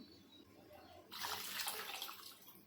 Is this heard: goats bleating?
no